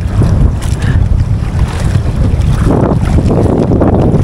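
A large fishing boat pitches through rough sea in strong wind, with heavy gusts buffeting the microphone and waves slapping the hull.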